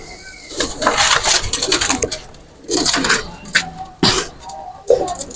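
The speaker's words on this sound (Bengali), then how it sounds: "দুইটা কবুতার আমি ছেড়ে দেখাচ্ছি" Two male Pakistani pigeons are let go, giving bursts of wing flapping and rustling with low cooing between them, loud and close.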